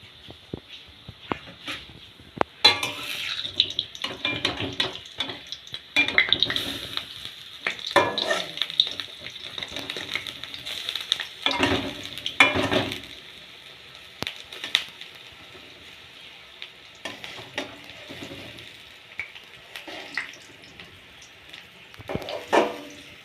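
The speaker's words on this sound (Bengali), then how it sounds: "তো এই দেখো আমার ডালের বড়া ভাজা হয়ে গেছে" Oil crackles and sizzles steadily as lentil fritters fry, with scattered clinks and scraping bursts of stirring in a pan close by.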